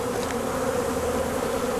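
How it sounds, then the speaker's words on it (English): A dense swarm of honey bees hums steadily at a hive, a close, continuous drone without pause and no voices over it. "it's a bunch of bees at the top right here"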